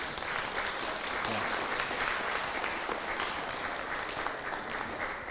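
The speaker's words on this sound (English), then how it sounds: "Please give them a round of applause," Steady applause from an audience, a continuous wash of clapping at moderate volume with no talking.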